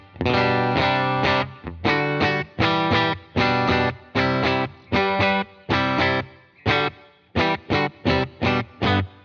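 An electric guitar plays through a UAFX Dream 65 amp pedal with reverb added, giving loud, distorted strummed chords in rhythmic bursts with short gaps and a lingering ambient tail.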